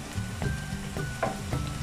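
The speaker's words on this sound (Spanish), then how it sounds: "ya nuestra cebollita ya está frita. Aquí le vamos a poner el ajo." Onion and chopped garlic sizzle steadily in a frying pan, the hiss broken by soft periodic scrapes as they are stirred, with no talking.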